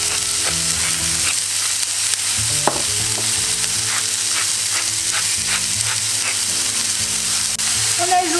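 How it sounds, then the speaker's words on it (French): Courgettes sauté briefly in a pan, a loud steady sizzle carries through with intermittent spatula scrapes and stirring clicks, one sharp knock early on, no voices. "Alors on les fait cuire mais sans trop les faire cuire, on les garde encore un peu al dente"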